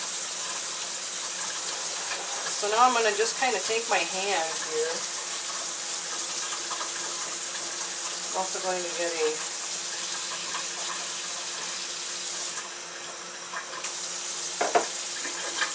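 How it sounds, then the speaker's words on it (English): Water runs steadily from a kitchen tap in a constant hiss throughout, while a person talks over it in brief stretches. "also going to start running my water."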